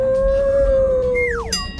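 A cartoonish howling sound effect, one long held wavering tone that ends in a quick falling glide, loud and close with no talk.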